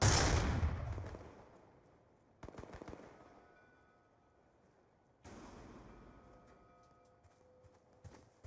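A concussion grenade goes off in a shooter game as a loud, bright burst at the very start, then decays. Two more sharp cracks and rattling bursts follow a few seconds apart.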